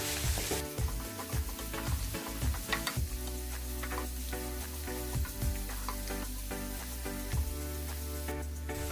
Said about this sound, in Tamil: இதை இந்த பச்சை மிளகாவும் சேர்த்து நம்ம நல்லாவே வதக்கிக்கலாம்.